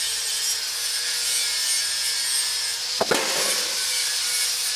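A Jeep XJ front fender pinch weld is cut off with a power tool, making a steady, loud, rasping cutting noise throughout, with one sharp louder burst near the end.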